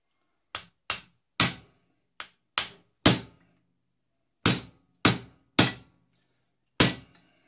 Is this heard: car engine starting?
no